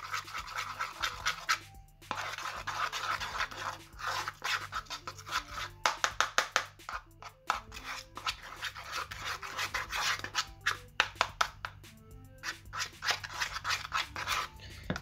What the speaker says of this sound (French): J'en ai peut-être mis un petit peu beaucoup, mais ce n'est pas grave, on va bien mélanger.